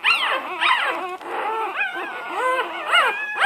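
Week-old puppies whimper and whine in high, wavering cries that overlap continuously, close and clear with no talking.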